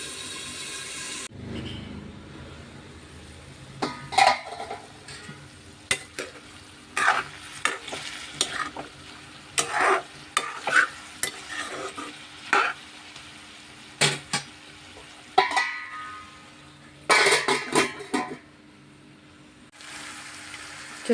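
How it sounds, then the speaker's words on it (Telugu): Drumsticks fry in a pan for a curry, with a faint low sizzle under a long run of irregular spatula scrapes and clacks, loud bursts of stirring separated by quieter pauses. "చూడండి, చాలా చక్కగా ఫ్రై అయిపోయింది కదా మనకి."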